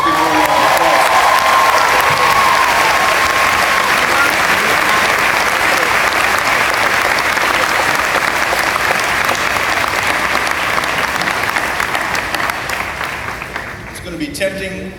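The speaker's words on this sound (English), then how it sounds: "let's give her a round of applause" A school audience applauds steadily for a retiring school nurse on her final day after 14 years on staff, sustained dense clapping for about fourteen seconds that thins out near the end.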